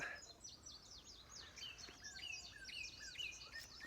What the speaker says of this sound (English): we're going to move away from the loud birds